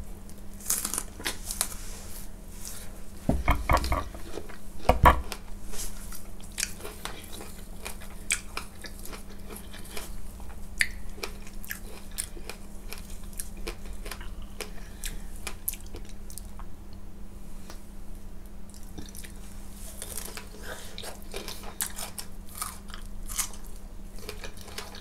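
Close eating sounds from large fresh strawberries topped with whipped cream: soft crunchy bites, then wet chewing and squishing that continues steadily and quietly.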